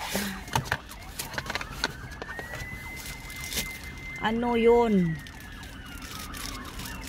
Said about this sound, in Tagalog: Parang may bumbero yun o ambulance